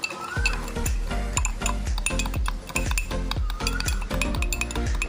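A spoon clinks rapidly and rhythmically against a cup while whipping a mixture with two spoonfuls of warm water until frothy, the close metallic taps repeating steadily with a brief pause partway through.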